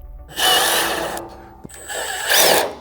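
Power drill driving stainless steel screws into a pergola frame, running in two close bursts of whirring with a brief pause between.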